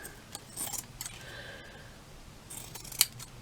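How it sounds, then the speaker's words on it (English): Scissors snip through a length of linen fabric in a few quick crisp cuts, close by and fairly quiet, with a sharper click near the end. "So I just need to cut a piece off."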